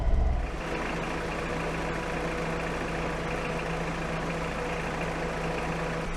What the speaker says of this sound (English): that is a BX turbo diesel engine